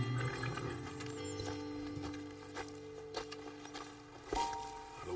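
Horses in Red Dead Redemption 2 shifting and snorting near a roadside ledge, soft hoof clops and animal sounds over a steady ambient game backdrop, no talking.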